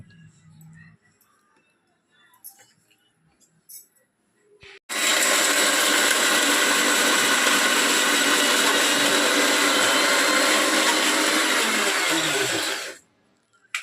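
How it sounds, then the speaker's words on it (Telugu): A kitchen mixer grinder blends ginger and garlic for mutton curry, a loud steady whirring roar starting abruptly after a few quiet knocks and cutting off near the end. "అదిగోండి ఇప్పుడు ఇది మిక్సీ పడతాను"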